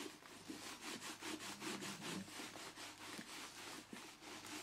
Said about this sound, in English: I'm just going to see if it rubs in the excess from the cloth